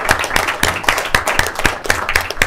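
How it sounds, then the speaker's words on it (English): A Senate committee meeting breaks into a round of applause, with many hands clapping in a steady, moderately loud patter that continues throughout and has no one speaking over it. "So can we give you a round of applause as well?"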